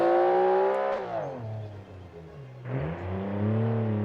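A race car's engine screams to very high revs on a hill-climb run, the pitch sweeping down and then climbing again as it shifts, loud and close with no voices.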